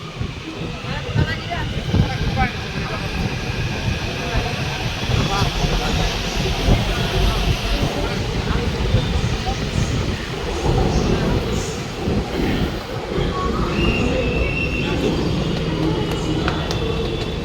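A metro train in Hyderabad runs with a loud, continuous rumble and hiss from inside the carriage, steady throughout, and people talk under the noise.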